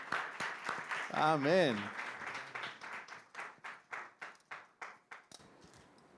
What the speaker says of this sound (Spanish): Recibimos a la pastora con un aplauso.